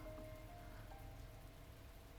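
Steady rain falls as a soft, even hiss in the video game The Fruit of Grisaia. It is faint and continuous, with no voices.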